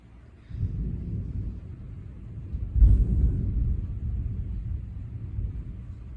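Stormy wind roars in steady, rumbling gusts, swelling sharply around the middle and then holding strong and close, with no voices.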